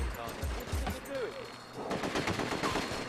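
Gunfire and chaotic combat noise in the PS2 game The Getaway, bursts of shots rattling continuously through the short stretch, fairly loud and dense, with some voice-like sound mixed in.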